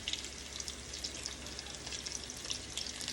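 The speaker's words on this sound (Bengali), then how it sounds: "কেটে রাখা পেঁয়াজগুলো দিয়ে দিলাম" Chopped onions sizzle in hot oil with cardamom, cinnamon and bay leaves for a pigeon meat curry, a steady close hiss with faint crackles and no talking.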